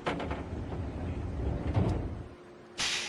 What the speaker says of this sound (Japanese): ドアが閉まりますからご注意ください。